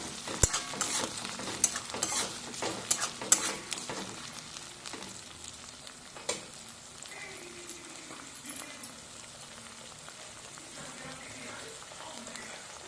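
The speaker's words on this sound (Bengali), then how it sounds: "এই মশলাটা আমি ভালো করে মিশিয়ে নেব।" Ginger and garlic paste with spices is stirred and fried in a pan over a low flame, giving soft sizzling and irregular scraping taps from the spoon. Someone talks over it now and then.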